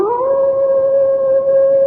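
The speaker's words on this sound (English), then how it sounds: "They say it's the cry of the Hound of the Baskervilles," A hound's long, steady howl on a moor, performed as a radio drama sound effect. It holds one sustained, loud, close tone that rises slightly at the start, with no voices.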